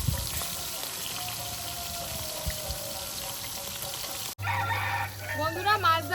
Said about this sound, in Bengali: তো চলো মাছগুলো এখন ভেজে নিই।